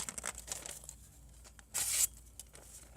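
A clone Emerson CQC7V folding knife with a 7Cr17MoV steel blade slices through paper in one short, sharp tearing stroke, close and crisp against a quiet background with faint rustling before it.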